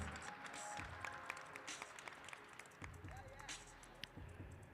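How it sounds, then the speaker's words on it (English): Applause for the winners of a Mixed Madison track cycling race, with crowd clapping and a few sharp claps standing out while people talk underneath. "All right, round of applause."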